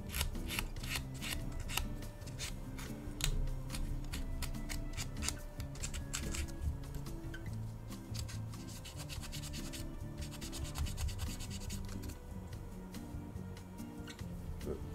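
A plastic piece is sanded by hand in a workshop, a steady rasping scrape of rapid short strokes, close and fairly quiet with no talk.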